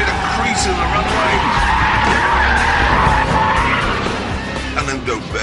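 Mercedes SL Brabus V12 roadster under hard braking on a runway, a loud, sustained tire squeal rising and bending in pitch for several seconds over deep engine rumble.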